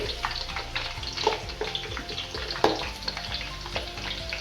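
Betel leaves and curry leaves sizzle and crackle continuously in hot oil over a low flame for homemade hair oil, with small pops and occasional stirring clicks, close and steady.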